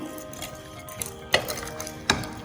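Salad being tossed with pepper powder and salt: soft clinks and scrapes of a spoon against a bowl, with a couple of sharper taps standing out over a low, steady background.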